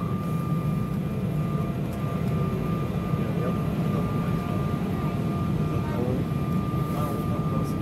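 Airplane cabin noise during a landing approach to Porto Alegre, a loud steady engine roar and broadband hiss filling the cabin continuously, with a person talking over it.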